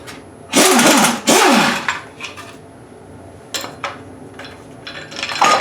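Metal bolts dropping into a pan during teardown of a 2007 GMC Yukon 5.3 engine while a cracked motor mount is pulled off the side: two loud clattering metallic impacts, then several fainter rattles and clinks, close by with no talk.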